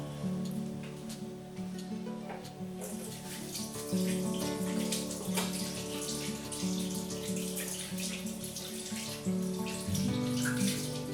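Hands being washed under a running kitchen tap, a steady splashing stream with water spattering and shifting as the hands move through it, fairly close and continuous.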